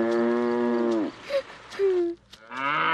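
Several cows moo in a rural pastoral setting, a long loud harmonic low followed by a couple of shorter, higher calls and another rising moo at the end, close and clear with no talking.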